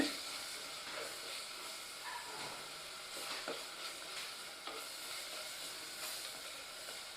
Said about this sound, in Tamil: போட்டு இப்போ வதக்க ஆரம்பிச்சிட்டோம் நல்லா வதங்கிடுச்சு வதங்கிடுச்சு